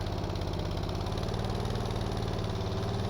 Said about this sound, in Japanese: 冷却水の循環ポンプを回して、エンジンスタート。